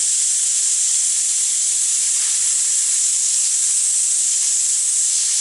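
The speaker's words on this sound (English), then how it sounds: "Tell that the steam is going, and it won't be but a few minutes before this pan will drop." Steam hisses steadily from a pressure cooker holding spareribs, a loud continuous high-pitched jet that stays constant and close with no talk.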